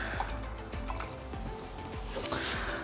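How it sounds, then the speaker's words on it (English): Roughly 21 ounces of water poured into a 32 ounce bottle, a continuous gurgling fill with small bubbly drips and splashes, close up and steady, with no voices. "So I went ahead and put in 21 ounces of water or so."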